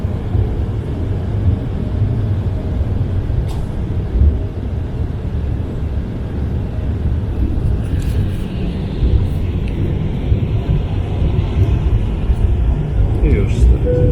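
A LOT passenger airplane accelerating down the runway for takeoff, heard from inside the cabin as a loud, steady low engine and rolling roar that persists throughout, with faint rattles and clicks and no clear talk.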